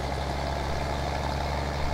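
A battered tractor in Farming Simulator 19 idles with a deep, steady, sonorous engine drone, constant and close, with no speech over it.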